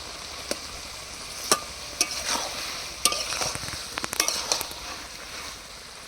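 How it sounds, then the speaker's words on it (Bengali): Half-cooked taro pieces are sautéed with onion in a pan, a soft continuous sizzle punctuated by sharp clacks and scrapes of a spatula stirring at irregular intervals, close and without speech. "তিন চার মিনিট ধরে কচুগুলো কষিয়ে নিয়েছি"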